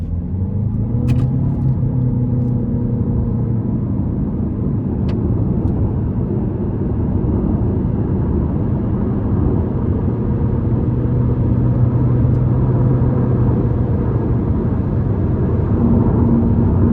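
A 2025 Chevy Malibu LS with a 1.5-liter turbocharged four-cylinder pulls hard under acceleration, its steady low engine drone and road rumble holding loud and constant from inside the cabin with no talk.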